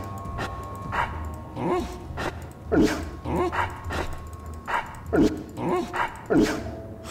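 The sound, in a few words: dog barking and whimpering in video game Dragon Age 2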